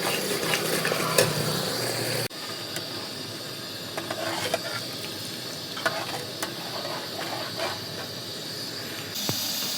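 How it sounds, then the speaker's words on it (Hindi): Loud hissing sizzle from hot oil tempering in a pressure cooker, then a sudden shift as lentils are added, with scraping stirring and crackling continuing close by. "तो दाल डाल दी हमने कुकर में तड़का लगा करके।"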